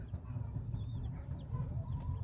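Soft, scattered clucks from a ten-month-old rooster of about three kilograms over a low background rumble, fairly faint and close by.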